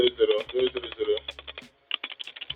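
Fingers tap numbers into a form on a computer keyboard, a quick run of close, crisp key clicks, then a pause and another short burst, with a voice talking over the first part.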